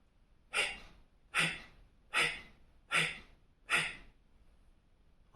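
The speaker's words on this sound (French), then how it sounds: "expire par la bouche, inspire par le nez" Five forceful breaths during a breathing exercise, each pushed out through the mouth and drawn in through the nose, evenly spaced and close, with quiet pauses between.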